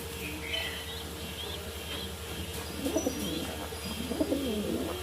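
American fantail pigeons and a young squab in a loft. A few faint chirps come early, then two bursts of deep, rolling coos follow close by over a steady background hum.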